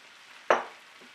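Chopped tomatoes drop into a pan of hot spice mixture for a Nepali cauliflower curry, giving one sudden loud sizzle that fades over a fraction of a second, then a faint second hiss.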